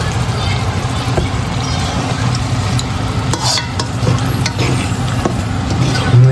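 Spoon stirring cream and cooked vermicelli in a pot after fried shrimp, with a steady sizzling, bubbling background and scattered scraping clicks; a voice talks over it.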